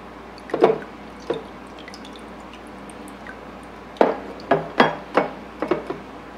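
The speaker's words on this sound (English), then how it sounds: "just use a strainer and pour the juice through" Fresh-squeezed lemon juice poured through a strainer: wet splashing and dripping in irregular bursts, a few isolated drips then a cluster of louder splashes close by, with no talking.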